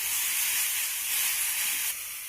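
Heated water poured into a pan of seasoned vegetables with soft plantain sets off a loud, steady, bright steam hiss, easing slightly near the end, with no voices.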